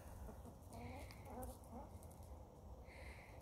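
A Buff Orpington hen clucking softly near a backyard coop and dust bath, a few short, mid-pitched calls over a steady, noisy outdoor background.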